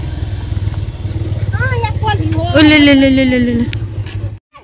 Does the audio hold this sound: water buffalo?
no